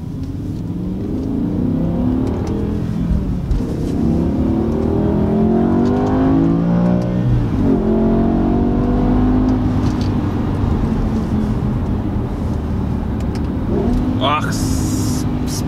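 A BMW M car's engine climbs hard toward high revs, rising in pitch and roaring loudly up close, with gear-change dips and renewed pulls, while someone talks over it.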